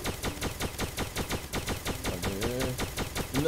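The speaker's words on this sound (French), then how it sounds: "Meurs avant que mon flingue se décharge." A gun in the game Starbound firing in rapid, evenly spaced shots, a steady automatic stream of sharp reports over a few seconds, with brief tonal game sounds near the end.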